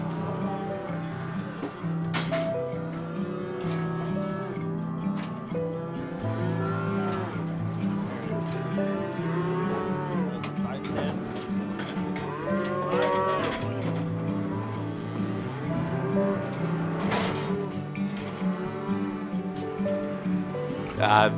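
Cattle moo repeatedly on a livestock farm, several animals calling near and far in overlapping bellows throughout, with people talking underneath.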